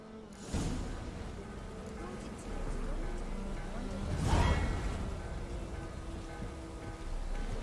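Steady rainfall in The Witcher video game, a continuous broadband patter rising and falling over several seconds, with brief louder whooshing swells and faint background game sounds mixed in.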